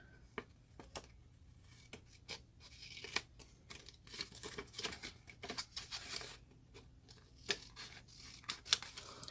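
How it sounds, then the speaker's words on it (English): Scissors cut paper tabs on a handmade thank-you box. The snips and rustles are soft and close, coming in irregular bursts with pauses between them, and no voice is heard. "You're just going to go ahead and cut these tabs down."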